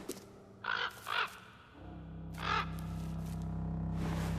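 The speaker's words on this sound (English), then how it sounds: "You can pet the bird." A white bird in the video game Inscryption gives several harsh croaking caws when petted, three short calls close up over a low, steady game ambience drone.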